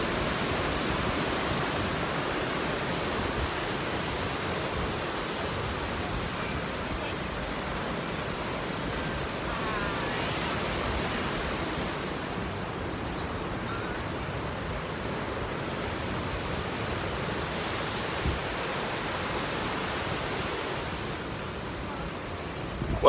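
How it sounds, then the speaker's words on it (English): Continuous roar of Pacific surf on the coast at Torrey Pines, broad and steady with waves washing in and out, no voices. "these waves are sure noisy"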